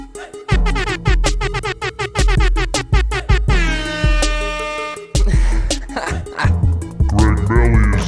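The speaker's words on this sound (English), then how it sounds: "Let me hit the air horn." A loud blaring air horn sounds in rapid repeated blasts, then a long sustained wail and more chaotic honks, close and dominating.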